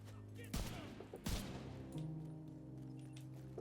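Rifle gunfire in the video game The Division 2, with two sharp shots about a second apart ringing out over a steady game soundtrack hum.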